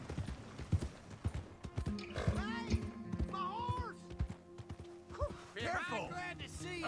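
Clip-clopping horse hooves in Red Dead Redemption 2, heard under shouting voices, with a horse neighing briefly near the end amid the commotion.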